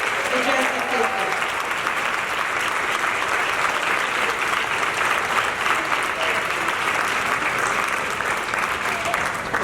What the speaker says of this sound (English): While you guys are clapping